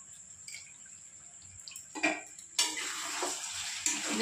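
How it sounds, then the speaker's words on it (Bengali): Chicken being sautéed with chili, soy and tomato sauces: soft scraping and stirring in a pan, then a louder, continuous sizzle with a few utensil clinks, no talking. "ভালো করে নেড়ে চেড়ে কষিয়ে নেব"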